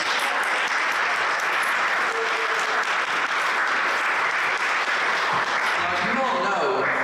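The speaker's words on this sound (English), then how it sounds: "Can you give another round of applause for Anthony Scott?" A church congregation at an Easter service applauds loudly and continuously, a dense steady clatter of many hands, with a voice starting to speak as the clapping fades near the end.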